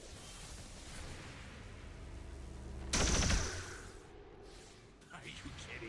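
A short, loud burst of weapon fire from an XCOM 2 Long War of the Chosen battle hits at mid-clip, standing out over quiet game ambience while someone talks before and after.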